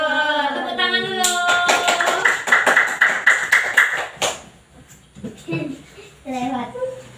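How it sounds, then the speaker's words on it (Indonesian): Children clap their hands together in a short burst of quick claps, preceded and followed by a teacher and kids talking in a classroom. "Tepuk tangan dulu."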